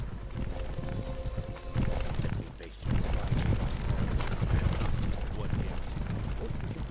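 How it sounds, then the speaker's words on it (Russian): Galloping horse hooves from WarCraft: Armies of Azeroth pound in a loud, rapid clatter, dropping away for a moment before resuming, with a person speaking over the steady hoofbeats. "Да что ж вы так кони громко скачете?"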